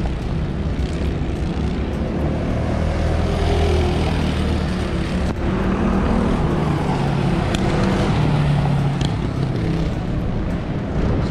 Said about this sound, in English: They're just having a bit of a corporate kart hour.